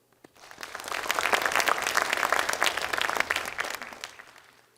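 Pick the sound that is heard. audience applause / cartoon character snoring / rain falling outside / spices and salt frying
audience applause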